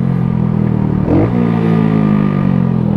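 Motorcycle fitted with a Fortuna exhaust idling with a steady low drone, then a quick throttle blip around the middle that rises and falls before settling back to a loud, close idle rumble.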